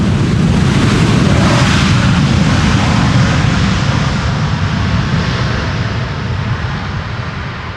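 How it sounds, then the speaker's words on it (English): A wide-body airliner lands at Amsterdam Schiphol runway 18R using its thrust reversers, a loud close rumbling roar that is strongest at first and then eases slowly as it rolls out. "all these wide bodies, or at least a lot of them, are using their reversers"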